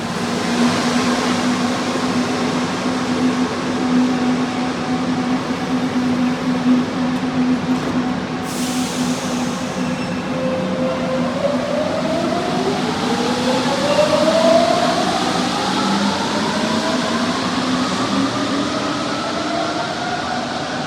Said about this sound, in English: Here is the Metro Line D train, one of the older style of metro trains, arriving into Saxe-Gambetta